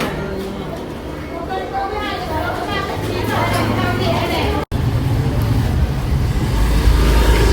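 Motorbike engines rumble and pass nearby amid seafood market chatter in Thanh Hoa, Vietnam, the low droning growing louder toward the end, with people talking over it.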